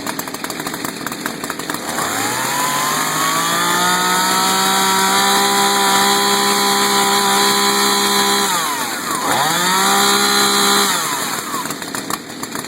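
A chainsaw, started for a daily saw check, revs up and holds a loud, high buzzing whine, briefly drops and revs again before cutting back, close and without talk.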